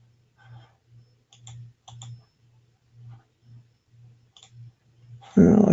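A computer mouse clicks a few times, sharp and close, in small clusters over a steady pulsing low hum, ending with a sudden loud burst of noise.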